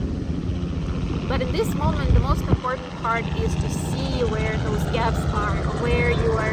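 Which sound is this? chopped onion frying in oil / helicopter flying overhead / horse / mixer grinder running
helicopter flying overhead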